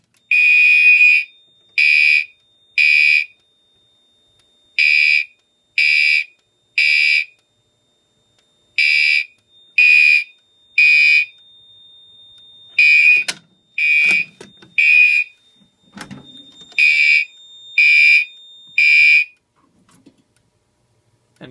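Fire alarm system test on a Commander 3 panel, with a smoke detector activated and a Skyway sounder: loud electronic tones pulse in repeated groups of three with short gaps, ending with a few faint clicks and handling noises.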